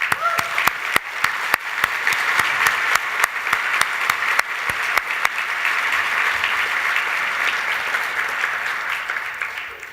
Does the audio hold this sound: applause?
yes